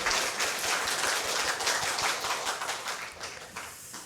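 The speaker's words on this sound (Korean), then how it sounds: "우리 수고하신 성가대원들께도 한번 격려의 박수 한번 보내드리겠어요." A church congregation at a Sunday morning service gives the choir a warm round of applause, dense sustained clapping from many hands that fills the room and tapers slightly at the end, with no talking.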